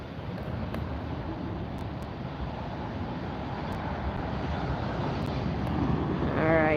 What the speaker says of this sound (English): Is that a 747 taking off over there?